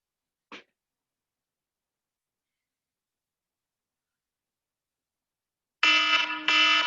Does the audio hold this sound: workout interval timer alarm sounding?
yes